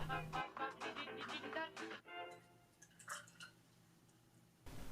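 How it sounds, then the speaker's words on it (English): Simple syrup pours into a cocktail, a short trickle and splash of liquid followed by quieter drips, close and faint with no talking. "Add half an ounce of your simple syrup."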